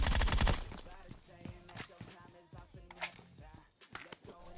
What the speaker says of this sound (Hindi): बस गोलियां पेलनी है।